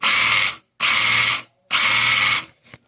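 The new motor in an LDRC RC drift car revs in three bursts of high-pitched mechanical whirring, each about half a second long with brief pauses between, then a short fourth blip. Close and loud, with no voices.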